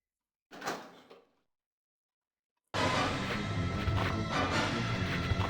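A door animation in Resident Evil 2 (1998) playing as a short creak and thud, then a pause of silence followed by a sustained, loud rumbling noise bed with scattered rattles.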